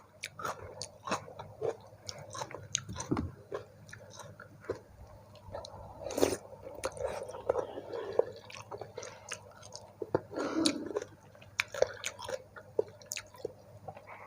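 Close, wet chewing and biting of crispy fried food eaten with tom yam yen ta fo noodle soup, with irregular crunches, squishes and small slurps, no talking over it.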